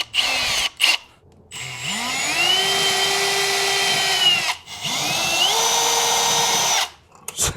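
A power drill driving toggle bolts whines up in two long, steady bursts, close and fairly loud, each starting with a rising pitch and stopping abruptly, with short quiet gaps between.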